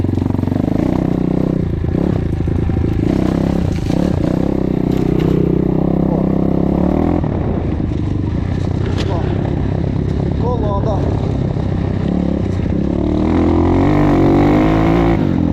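A KAYA 512 motorcycle is ridden through thickets, its engine chugging loudly and continuously with rev changes and clattering over rough ground, close up, while someone talks over it.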